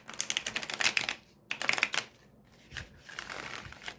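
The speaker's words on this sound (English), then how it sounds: "Let me show you riffle shuffling with this deck." A deck of Tarot de Marseille cards being riffle shuffled, crisp rapid fluttering clicks in three close bursts separated by short pauses, near and alone with no voices.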